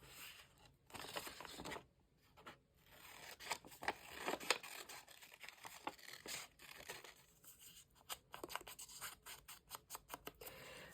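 Scissors snipping carefully around a paper shape for a junk journal, a close series of quiet irregular cuts with rustling and scratching of paper between snips.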